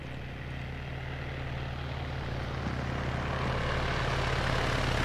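A helicopter in Arma 3 sits close by, its engine and rotor giving a loud, unbroken drone and whine that grows slightly stronger over a few seconds. No voices can be heard over it.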